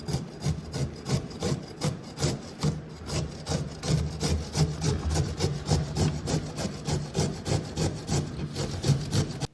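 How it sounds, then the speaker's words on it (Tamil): Carrot grated on the large side of a grater, a close, rhythmic series of rough rasping strokes repeating steadily for several seconds with no talking. "இப்போது கேரட்டை பெரிய சைடில் கிரேட் பண்ணி எடுத்துக்கலாம்."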